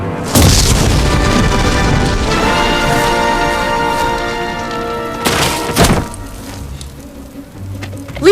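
A factory blows up in The Simpsons Game, heard as a loud booming blast followed by a sustained rumbling roar, with a second heavy thud and debris crashing down as it fades.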